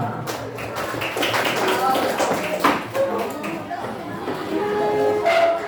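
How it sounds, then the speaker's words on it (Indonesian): A classroom of students clapping together, dense close hand claps with some thumps and voices mixed in, continuing steadily and swelling toward the end. "Tepuk tangan untuk kita semua"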